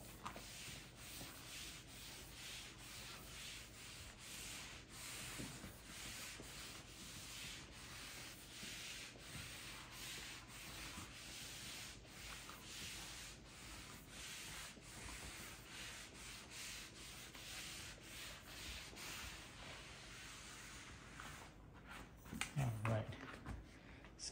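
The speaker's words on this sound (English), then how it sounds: "we can go ahead and just mop" A reusable microfiber mop pad scrubs across a floor in steady, repeated rubbing strokes, a soft continuous swishing close to the microphone, with a few louder bumps near the end.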